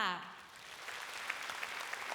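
Faint, distant applause from a concert audience at a Thai tribute concert for the Queen Mother, a soft, even wash of clapping that follows the tail of a voice at the start.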